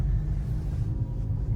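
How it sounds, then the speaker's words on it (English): A Hyundai Veloster drives along a street with a new short shifter fitted, giving a steady low engine and road rumble with some wind noise, no voices. "a test drive in the Veloster"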